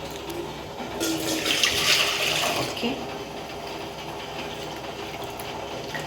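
Water is poured into an old cooking pot in a home kitchen, a rushing, splashing pour swelling for a couple of seconds and then settling into a softer trickle, with a brief spoken word.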